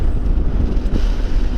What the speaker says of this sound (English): It's a bit windy. Damn, it's windy.